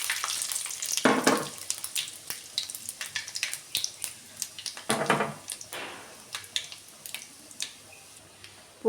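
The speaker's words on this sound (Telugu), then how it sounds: "పోపుకి ఆవాలు, జీలకర్ర, మినపప్పు, శనగపప్పు వేసాను" Mustard seeds, cumin, urad dal and chana dal crackle and pop in hot oil for a South Indian tempering. Quiet, irregular spits and sizzling bursts come close up, with no voices.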